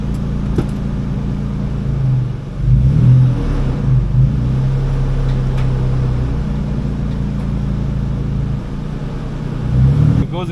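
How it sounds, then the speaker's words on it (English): A Nissan Xterra SUV drives just after a transfer case repair, its engine a steady, close low drone that swells briefly near the start and again at the end. "Alright guys, the car is on, off the lift. Let's go for a ride."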